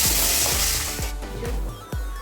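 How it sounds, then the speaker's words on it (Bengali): Stingray fish frying in hot oil in a home kitchen, a steady bright sizzle with regular soft thuds of stirring or turning the pieces. "হয়ে গেছে মাছগুলো ভাজা দেখো"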